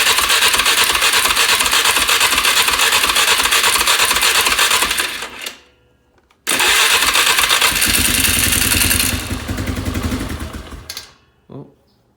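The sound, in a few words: 2004 Polaris Sportsman 400 ATV engine cranking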